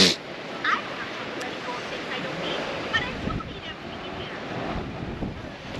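Strong wind blowing across deep snow, a steady broadband roar with gusty swells and buffeting against the microphone throughout, with brief faint voices in the background.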